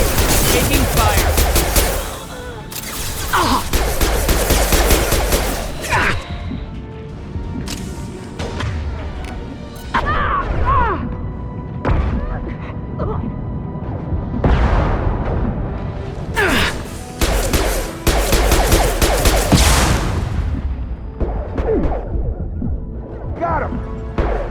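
Dense bursts of rapid gunfire in the Mass Effect 2 firefight on Omega, with loud volleys, sharp single shots and impacts coming in waves across the whole stretch.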